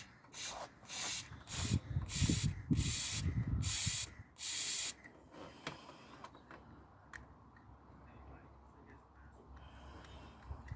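Silicone lubricant is sprayed down the bonnet release cables of a Rover 75 in several short, close hissing bursts. Quieter handling noises follow.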